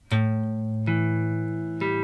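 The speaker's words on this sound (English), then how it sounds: "And that is a dominant seventh chord." A guitar dominant seventh chord is strummed three times, each ringing out clearly and sustaining, with a slightly different voicing on the last strum.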